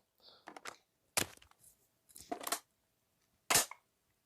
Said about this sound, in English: So let's do the magazine, the reload here.